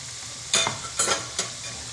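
Kothimbir vadi, Maharashtrian coriander fritters, frying in hot oil over a low flame, with three short bursts of sizzling and stirring standing out against a low steady background hiss.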